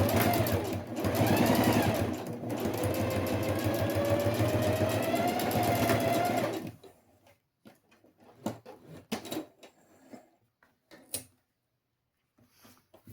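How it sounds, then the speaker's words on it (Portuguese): A sewing machine stitches a fabric box for a simple zippered toiletry case, running loud and steady with a motorized whir for several seconds. It then stops, followed by scattered clicks and handling noises. "Vamos fazer uma costurinha."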